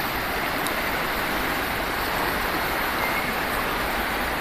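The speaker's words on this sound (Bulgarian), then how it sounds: "Ето е реката." A river swollen after spring flooding rushes steadily, a broad continuous wash of flowing water close by with no voices.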